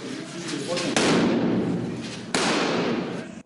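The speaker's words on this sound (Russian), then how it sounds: "Осколочная граната." Fragmentation grenades go off inside an abandoned building during urban combat training, giving two sudden heavy blasts, each followed by a long rumbling decay, with voices faintly underneath.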